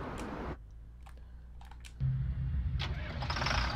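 An old tractor in Farming Simulator 19 cranks after a dose of ether: a short burst, clicks and rattles, then the engine catches and settles into a loud, steady idle rumble.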